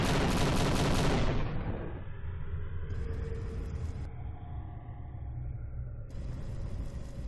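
Gunfire in an Android zombie survival shooting game, a dense burst of loud shots at the start that gives way to a steady low rumble with game effects.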